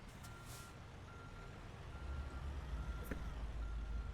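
A truck in American Truck Simulator reversing, a faint steady tone beeping at a regular pace over a low engine rumble, quiet and distant.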